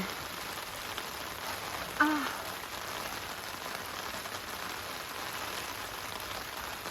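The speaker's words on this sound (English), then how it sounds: "Oh, it's finally raining." Steady rain falling in a continuous soft hiss, with a brief louder patter about two seconds in and no voices.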